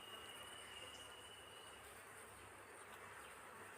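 Honey bees humming steadily in a wooden hive box while smoke is puffed over them, a continuous close buzzing drone with no pauses.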